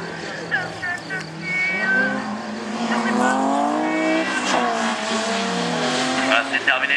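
A big red BMW race car brakes hard at the finish line, its tires squealing in long, wavering tones over steady engine noise, loud and close, while someone talks over it.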